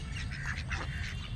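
Twelve ducks quacking together nearby, a busy overlapping chorus of nasal calls over a low outdoor rumble.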